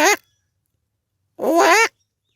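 A man imitates the call of the jujurana, or western tragopan, with two loud, close, wailing vocal bursts: a very short one, then a longer warbling one after a pause.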